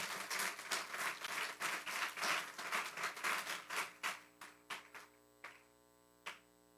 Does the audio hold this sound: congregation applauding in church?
yes